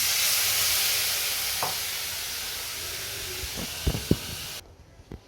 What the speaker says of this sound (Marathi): आणि ह्याच्यामध्ये टाकते हे पाणी